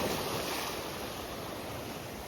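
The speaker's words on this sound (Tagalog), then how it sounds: "Kaya, Beli, lumakas yung alon." Strengthening ocean waves wash in on an Ilocos Norte beach, a steady, moderately loud surf roar with wind, continuous and heard alone.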